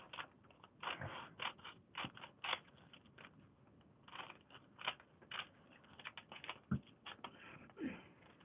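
Scissors snip and trim paper for a paper-craft Japanese lantern, a run of close, quiet, crisp cuts in an irregular rhythm with no talking.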